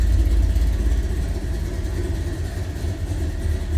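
A 1968 Chevrolet C10 pickup truck's engine runs at a steady idle, a close, deep low rumble that holds constant throughout with no talk.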